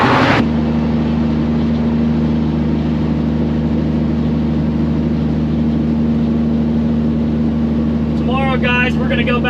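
A loaded Peterbilt truck drives on a wooded track, its engine holding a steady, heavy drone at a constant level throughout.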